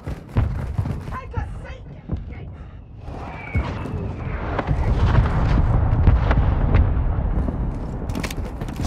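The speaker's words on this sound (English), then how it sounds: "Our mortar strike is inbound." Mortar strike explosions in Modern Warfare II team deathmatch, a series of sharp blasts and sustained rumbling impacts that grow heavier and denser toward the end, mixed with scattered gunfire.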